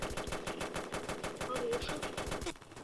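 Rapid automatic gunfire from a video game machine gun with a 70-round magazine, a steady rattling burst of evenly spaced shots that carries on loud for nearly three seconds before cutting off.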